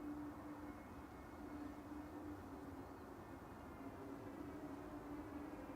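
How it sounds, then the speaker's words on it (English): An Airbus A380 starts its engines at Manchester Airport, heard as a steady, distant turbine whine and low roar that holds evenly throughout with no talk over it. "That's the A380 starting up"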